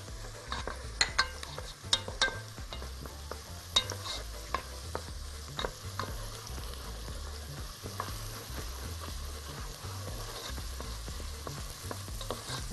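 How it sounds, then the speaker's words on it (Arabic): Onion being stirred and fried in a pan for red rice, a steady close sizzle with repeated scraping stir strokes throughout, no talking. "البصلايه محتاجه انها تدبل"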